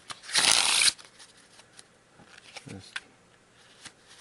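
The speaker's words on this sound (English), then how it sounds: "Let's go ahead and shuffle. And yeah, they seem to shuffle" A single quick riffle of playing cards, a dense crisp burst lasting under a second, followed by faint handling clicks and rustles.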